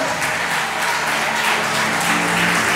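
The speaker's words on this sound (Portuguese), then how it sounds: "Se você crê, aplauda, aplauda, aplauda, aplauda, aplauda, aplauda, aplauda o Senhor nessa noite." A church congregation at an evening service applauds together, a dense, loud, sustained clatter of many hands clapping with no pauses for nearly three seconds.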